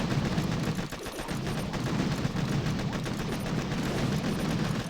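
Video game machine gun fire rattles in a continuous, fairly faint stream of rapid shots, with a dense, even texture and no clear pauses.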